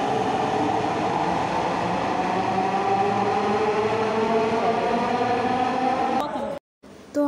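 Metro rail train ride heard from inside a carriage, a loud continuous rumble and whir with a steady hum throughout, cutting out abruptly near the end before resuming; voices can be heard over the running noise.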